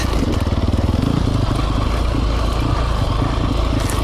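A 2020 Sherco 300 SEF Factory dirt bike engine rolls along in gear, a loud, close, steady throbbing rumble that holds evenly throughout, with no talk.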